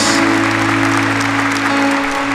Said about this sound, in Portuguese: Vamos aplaudir a palavra de Deus que foi proclamada